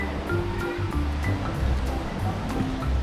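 Sea waves wash constantly at the shore below a seaside villa in Mui Ne, a soft continuous surf with gentle swells rising and falling.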